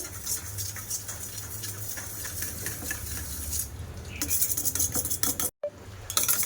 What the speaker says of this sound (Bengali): তেল আর জল দিয়ে ভালো করে ফেটিয়ে নেব